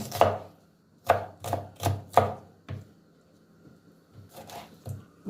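Knife chopping onions into chunky cubes on a board: a few sharp thuds, then a quick run of four evenly spaced chops, with softer scattered taps afterward.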